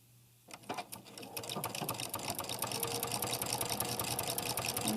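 A sewing machine stitches a small terry wash cloth. After a brief quiet start it runs steadily and close, with a dense rapid needle rhythm that grows slightly louder. No one speaks over it.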